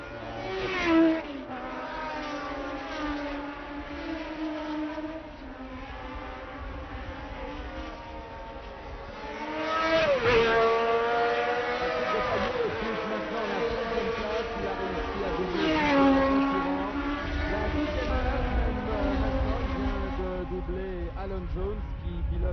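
1975 Formula 1 race cars at the French Grand Prix, high-pitched engine whines rising and falling as cars pass, with louder swells of passing cars, under continuous French race commentary.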